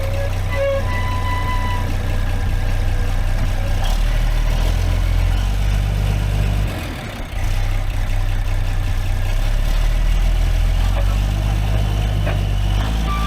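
Dresser TD25G bulldozer engine running steadily nearby, a deep heavy low rumble with a truck-like drone, dipping briefly midway before resuming.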